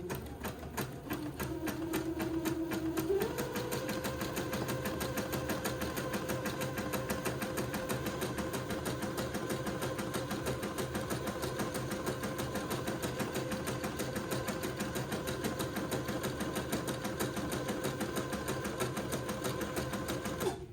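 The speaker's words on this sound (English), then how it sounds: "So I'm going to zigzag the other side of the lace now." A sewing machine zigzag-stitches lace onto a handkerchief, a fast, steady mechanical whir and rapid needle ticking that runs close and unbroken throughout.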